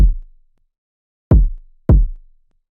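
A kick drum from a dark synth beat played alone: three deep, punchy thumps with short booming tails, the first at the start and two more in quick succession about a second later, separated by silence.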